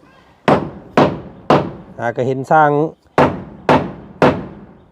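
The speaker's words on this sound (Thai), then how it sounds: "ต้องใส่ตะปูตอกตะปูลงก่อนเนาะ" Nails are hammered into a traditional Thai wooden house: sharp, evenly spaced blows ring out, three, a brief pause for a spoken phrase, then three more, close and loud.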